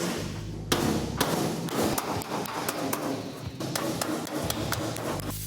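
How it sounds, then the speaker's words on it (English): Repeated hammer-and-dolly blows straightening sheet metal edges at an uneven, brisk pace, each strike sharp and close, with a busy workshop hum underneath. "A little hammer and dolly work will straighten out the edges."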